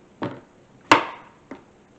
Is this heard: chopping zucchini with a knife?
yes